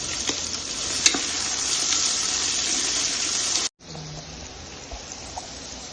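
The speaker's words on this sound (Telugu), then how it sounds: "ఆనియన్స్ బాగా ఫ్రై అవ్వడానికి మనం కొంచెం సాల్ట్ వేసుకొని ఫ్రై చేసుకుంటే త్వరగా ఫ్రై అవుతాయి" Onions and green chillies fry in a pan with a steady, bright sizzle and the scrape of stirring. The sizzle drops abruptly near the end and returns quieter.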